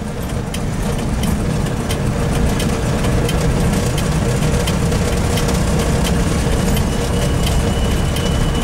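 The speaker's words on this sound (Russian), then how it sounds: "Да тут дизель, считай, на ходу" An old AP-4045 loader's diesel engine runs steadily and close, a dense low rumble with rattling, knocking texture throughout, no talk over it.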